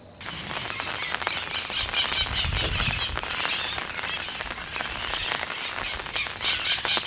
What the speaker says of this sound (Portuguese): a chuva não para